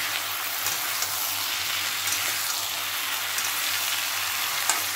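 Greens and a slit green chili fry in a pan for the Bengali dish pui shaak chorchori, giving a steady close sizzle like light rain, with faint scrapes and clicks from stirring.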